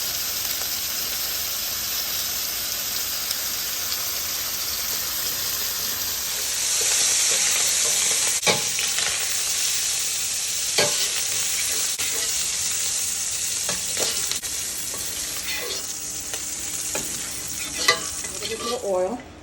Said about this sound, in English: I'm going to start by cooking the andouille sausage onto the bottom of the pan